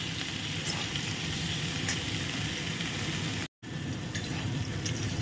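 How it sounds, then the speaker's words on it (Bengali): Vegetables sizzle and fry steadily in white oil over medium-high heat, a continuous close hiss with faint stirring and a brief drop to silence near the end. "এটাকে একটু সুন্দর করে ভেজে নেব, ভাজবে কিন্তু একটু মানে মিডিয়াম টু হাই করে"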